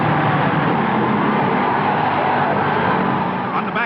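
A 1960 Dutch Grand Prix race car roars past the pit crew, a loud continuous engine blare filling the scene with steady intensity, slightly easing near the end.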